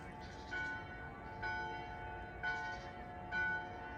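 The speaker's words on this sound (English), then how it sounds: "That's midday bells." Midday church bells in Prague toll at a steady, unhurried pace, four ringing strikes with long resonant tails over a faint background hum, heard from some distance.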